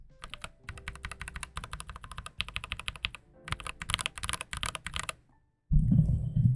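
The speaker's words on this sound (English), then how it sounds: "here's what they sound like now that I've lubed them" Rapid typing on a computer keyboard whose keys have been lubed produces a close, even patter of key presses in several runs with brief gaps, followed by a lower rumbling thud at the end.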